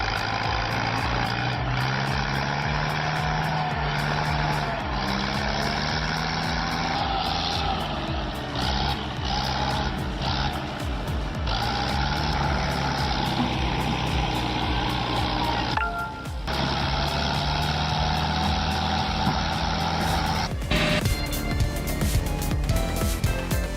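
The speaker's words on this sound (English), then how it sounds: "Anchored securely, it lets its heavy-duty winch haul massive timber from a safe distance." A TAF 650 forestry skidder works a slope, winching heavy timber; its loud, steady diesel drone runs throughout with shifting tonal whine and brief mechanical breaks.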